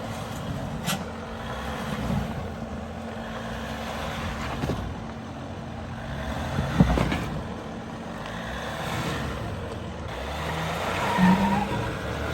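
Toyota Tacoma TRD Pro truck crawling off-road over obstacles, its engine a steady low rumble close by with occasional bumps and thuds from the trail.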